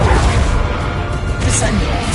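A Bombarda blasting spell in Hogwarts Legacy bursts into a loud, dense crash of explosive noise that fills the whole short moment, thick with low rumble and debris.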